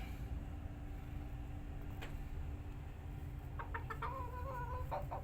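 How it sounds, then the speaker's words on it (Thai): Soft clucking from mini Cochin chickens nearby over a steady background hum, with a few brief louder clucks toward the end. "มินิโคชินนะครับไก่สวยงามนิวซีแลนด์นะครับ"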